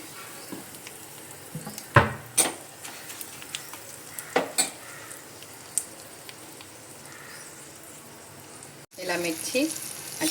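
Asafoetida dropped into hot oil with curry leaves and turmeric after the flame is switched off gives a soft, steady sizzle, broken by a few sharp clinks of a spoon and a louder crackling burst near the end.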